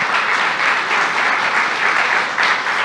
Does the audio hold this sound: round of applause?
yes